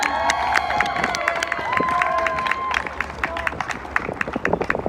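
A crowd cheers, whoops and claps enthusiastically for a well-liked man named Enrique, with sharp individual handclaps and shouts scattered through a lively, sustained ovation.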